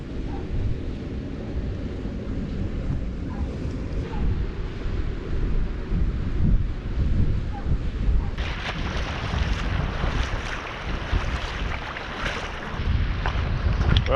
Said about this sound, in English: Oh, it's windy. It's very windy. Well, she's certainly howling.